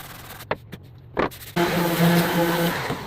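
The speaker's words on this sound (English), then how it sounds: "right now I'm just rough sanding them" A few knocks and handling sounds, then a power sander starts up with a steady humming whir and gritty rasping against pallet wood boards being rough sanded.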